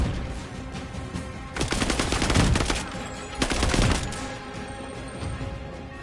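Heavy bursts of automatic fire from an oversized gun in Marvel's Avengers, two loud rapid volleys close together in the middle, with a quieter background before and after.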